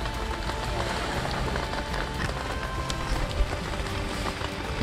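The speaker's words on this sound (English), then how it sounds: "I haven't seen rain like that ever." Heavy rain pours steadily on a desert island, a dense, continuous hiss and patter at constant loudness, close and unbroken, with no voices over it.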